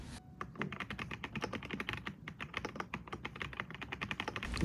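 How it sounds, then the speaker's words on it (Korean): Typing on a mechanical keyboard with a so-called pebble sound, a rapid, continuous run of crisp, close keystrokes at an even, steady pace with no talking. "잠시 키보드 소리 좀 들어보고 갈게요"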